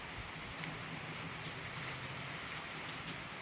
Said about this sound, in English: It's still raining, but not extremely hard.